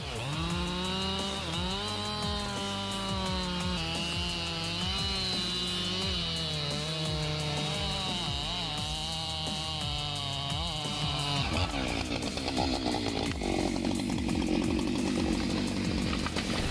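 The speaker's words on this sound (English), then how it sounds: "Embark on a giant tree cutting adventure with the Husqvarna 592 XP." A Husqvarna 592 XP chainsaw with a 90 cm bar cuts through a giant tree, its engine whining at a steady high pitch under load, then bogging into a rougher, grinding tone as the cut deepens; loud, continuous and alone.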